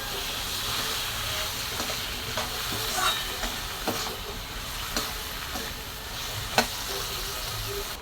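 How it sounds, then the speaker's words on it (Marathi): Potatoes being stirred into toor dal in a hot pan, a steady close sizzle with occasional scraping clicks of the spoon against the pan. "डाळीच्या नंतर बटाटे टाकून छान मिक्स"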